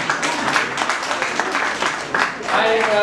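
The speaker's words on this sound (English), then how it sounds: "Please give a round of applause to Ms. Sangreen." An audience of thousands at a school entrepreneurship summit breaks into sustained applause, dense clapping that runs throughout while voices are heard over it.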